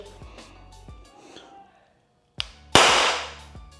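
SixNeedler toy blaster firing needle darts into a wooden board, a few sharp, close snaps with brief thuds, a pause of quiet, then a louder crack followed by a decaying rattle.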